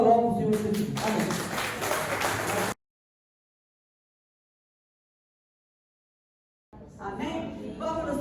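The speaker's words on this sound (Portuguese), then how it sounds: "as palmas louvam o Senhor Jesus" Church congregation applauding during a family worship service: dense, steady clapping for almost three seconds, then a long silence, then the applause picks up again toward the end.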